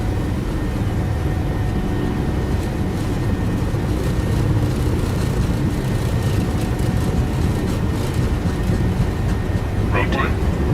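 Steady broadband rumble of a PMDG airliner on its take-off roll in Microsoft Flight Simulator 2020, loud and continuous throughout, with cockpit voices speaking over the engine and runway noise.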